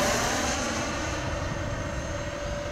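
A small FF-117V2 electric ducted fan model jet with a 50mm or 64mm fan runs at full throttle in flight, a steady high-pitched whine with a whooshing roar, sustained and fairly prominent, no speech.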